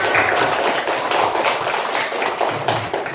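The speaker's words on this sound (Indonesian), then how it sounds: "Tepuk tangan untuk kita semua" A classroom of pupils claps their hands together, a loud, close, busy patter of many hands in quick rhythmic bursts that carries on throughout.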